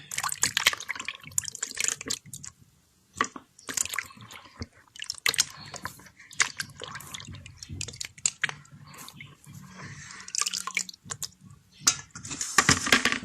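Clean water poured over soaked vegetables to wash them while cooking the Congolese dish tshomba tsha mbenzu: irregular splashes, drips and wet squishing handled close up, in short bursts with quiet gaps, no voices.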